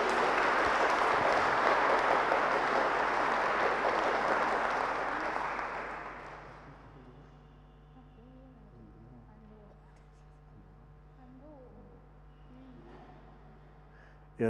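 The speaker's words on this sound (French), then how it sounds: "un grand applaudissement pour Nadia et sa famille." A church congregation applauding during Saturday Mass, a dense, loud burst of clapping that lasts about six seconds and then fades, leaving quiet murmurs and faint talk.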